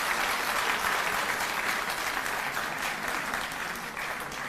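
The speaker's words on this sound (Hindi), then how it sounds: "एक बार जोरदार तालियां बजा दीजिए इसके लिए।" An audience at an International Women's Day event with Delhi CM Arvind Kejriwal gives a loud, sustained round of applause for a 12th-grade schoolgirl, the dense clapping easing slightly near the end.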